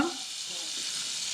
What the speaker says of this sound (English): that our steaks are actually touching, and so they get a good sear on them.